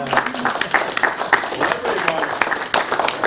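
Applause breaks out at a city council meeting in Buckhannon, a steady patter of clapping from the room with voices murmuring underneath.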